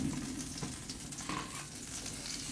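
Steady, soft sizzling of a beef steak grilling in a pan as its fat gently melts, a continuous close crackle with faint pops and no voices.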